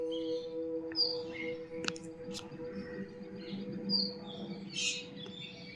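Birds chirp in a forested reserve area around the Bateshwar temples, with scattered high tweets and short calls over a steady low hum of background noise.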